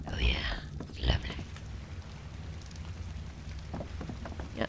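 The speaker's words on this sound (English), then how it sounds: "Yeah, it's raining out here." Rain in the video game Ark: Survival Evolved patters softly and steadily as a faint, hissing background wash, with a few brief louder noises near the start.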